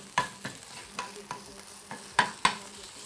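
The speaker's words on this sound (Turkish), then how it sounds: "Soğan, sarımsak ve salçayı bu şekilde karıştırıyoruz." A spoon stirs onion, garlic and tomato paste in a hot pan, giving a handful of scraping strokes at an uneven pace over a soft sizzle, close and fairly quiet.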